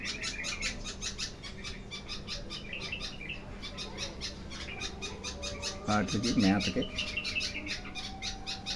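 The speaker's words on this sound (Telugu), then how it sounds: "అటు తల్లులు మేతలు తీసుకొని వస్తున్నాయి. 2 పక్షులు చూడండి." Birds chirp in rapid, repeated bursts close by at a nest as parent birds bring food, while a person talks over them.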